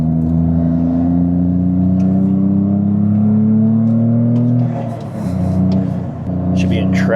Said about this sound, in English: Upshifting, downshifting, in and out of boost right now.